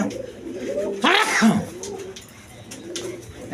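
Pigeons of a quality breed coo nearby in a few low, rolling calls, with a brief rustle or flutter in the middle and faint background noise.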